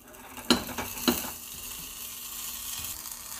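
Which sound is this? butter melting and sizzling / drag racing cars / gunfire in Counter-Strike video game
butter melting and sizzling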